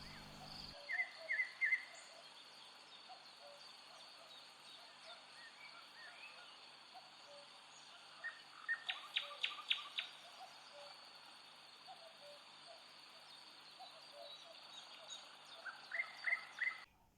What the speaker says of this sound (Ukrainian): прислухаємося до звуків лісу як гарно співають птахи